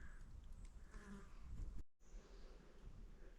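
Flies buzz steadily around white mushrooms on a forest floor. The hum is close and continuous, with a brief cut of silence partway through.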